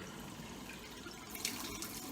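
Hot water pours from a kettle onto chicken wings over a sink, a quiet, steady splash and trickle that swells briefly near the end.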